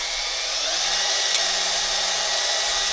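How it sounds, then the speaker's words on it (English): A drill-driven hone works inside the cylinders of a 3.4L V6 engine block, giving a steady, loud high-pitched whirring grind that holds without a break. "Time to hone the cylinders."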